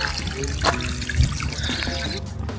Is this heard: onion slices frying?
no